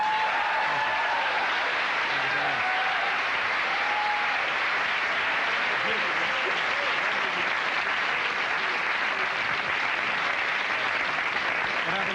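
A 1980s late-night television studio audience applauding loudly and continuously for about twelve seconds, a thick sustained roar of clapping with faint voices beneath it.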